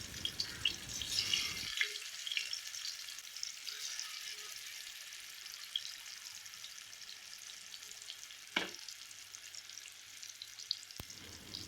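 Fish frying in hot oil over a medium flame gives off a steady, close sizzling hiss, with a brief sharp crackle and a click breaking through partway.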